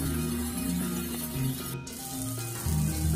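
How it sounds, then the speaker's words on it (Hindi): Ginger frying in a pan gives a steady, close hiss of oil sizzling, continuous and fairly even, with faint background tones underneath. "अभी जिंजर फ्राई होगा, तो हो ही रहा है, आप देख ही रहे हो।"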